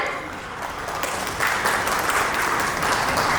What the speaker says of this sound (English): give a huge round of applause to everyone